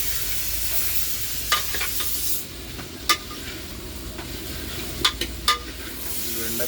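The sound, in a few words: okra curry frying and being stirred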